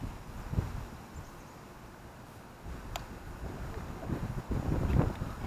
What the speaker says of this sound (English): And we got a lot of wind, but I'm gonna give it a shot.